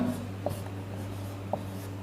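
Chalk or marker strokes on a board during a physics lecture on electricity, a few soft scratchy taps and short rubs over a low steady hum, fairly close, with no speech.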